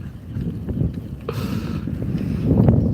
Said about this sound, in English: The wind is blowing out of almost every direction today